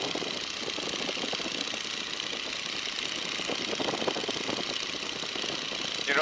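A Stearman biplane's radial engine runs steadily at reduced power, a loud, continuous rumbling drone with a rough, knocking texture that holds unbroken throughout.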